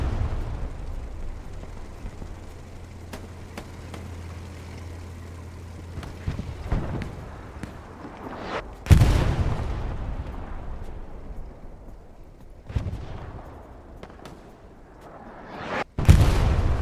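Artillery shells in the World War II shooter Hell Let Loose on the Sainte-Marie map, heavy booming blasts landing near, with two loud sharp impacts and a distant rumble between them, and no talk.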